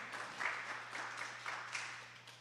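Workshop audience applauding for a few seconds, a moderate crowd clapping with a steady, slightly uneven texture and small surges, fairly quiet and without speech.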